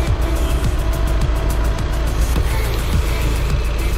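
An Audi A6 2.0 TDI diesel revs on a dyno during a stock-map power run, a loud steady engine drone with a deep low rumble that holds for the whole stretch, no talking.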